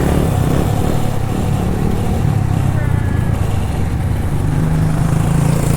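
A loud pit bike, a small dirt bike engine, idles and drones close by with a steady buzzing rumble that holds without break throughout.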